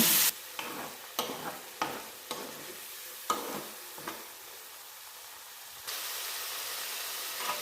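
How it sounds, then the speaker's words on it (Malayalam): Prawn masala with thick coconut milk is stirred and reduced in a pan. Rhythmic scraping strokes come about every second over a constant sizzle, then settle into a steady, close hiss. "ഈ കൂട്ടിലേക്ക് കട്ടി തേങ്ങാപ്പാലും ചേർത്ത് നന്നായി മിക്സ് ചെയ്ത് വറ്റിച്ചെടുക്കുക"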